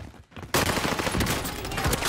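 A called-in fire strike hits its target in a console shooter, a sudden loud onset after a moment of near quiet, then a dense, rattling stream of rapid shots and impacts that keeps up to the end.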